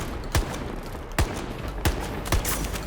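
Four sharp, loud shotgun blasts in a video-game match, used like a sniper rifle, spaced roughly evenly apart over steady background game ambience with no talk.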